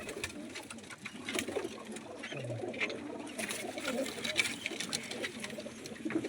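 Domestic pigeons cooing softly in a rooftop loft, low repeated coos under a faint background hum with scattered rustling and distant human voices.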